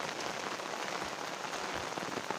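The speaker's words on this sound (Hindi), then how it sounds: "आज काफ़ी ज़्यादा बारिश हो रही है पहाड़ों में।" Heavy rain pours steadily in the mountains, a dense, continuous hiss of drops drumming on surfaces close by, with no voices and no letup.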